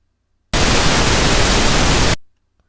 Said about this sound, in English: we'll use pink noise and make it stereo.